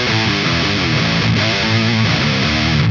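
Heavily distorted metal electric guitar through an octave pedal, with a thick octave-doubled low end, playing a steady riff of shifting notes, loud and close.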